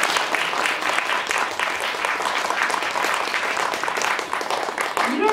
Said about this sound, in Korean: 다시 한번 좀 큰 박수를 부탁드립니다